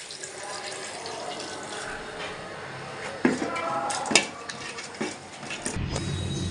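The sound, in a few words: broth poured into cooking beef curry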